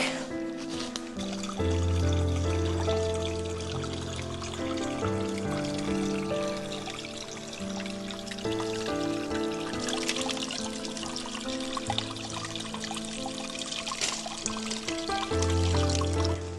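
A creek trickles and burbles continuously nearby, a gentle splashing flow with bright bubbling tones, steady throughout with no talking.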